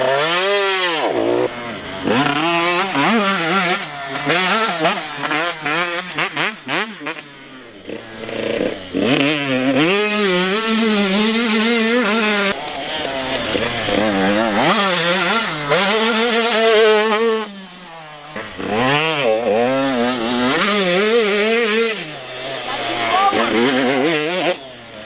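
A dirt bike engine putters and revs gently at low throttle while the clutch is feathered, rising and falling in pitch repeatedly over a long stretch, close and loud, with a coach talking over it.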